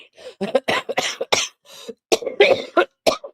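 A string of close, short coughs and throat-clearing bursts, irregular and choppy, with brief silent gaps between them.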